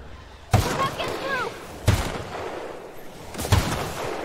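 Three spaced gunshots from a weapon in The Outer Worlds, each a sharp loud crack with a short ringing tail, fired roughly every one and a half seconds over a low ambient bed.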